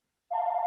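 A telephone rings in the background of a remote meeting, a steady electronic trill that starts about a third of the way in and continues to the end, fairly faint and with no talk over it.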